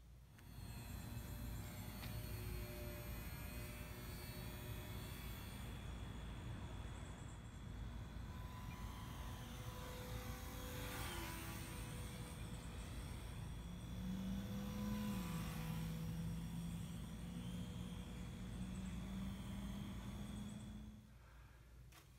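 A small three-channel Park Zone RC park flyer model airplane with a 24-inch wingspan flies overhead outdoors, its faint electric motor whine rising and falling in pitch as it passes over steady background noise.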